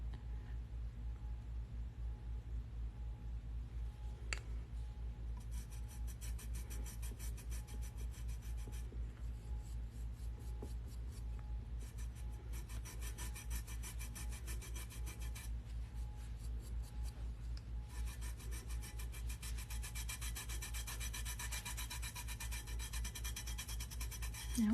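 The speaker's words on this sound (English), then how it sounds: "I don't think I can burnish it in anymore." Vinyl is burnished onto a tumbler with repeated rubbing, heard as soft, close scraping strokes that come in bursts over a low steady hum.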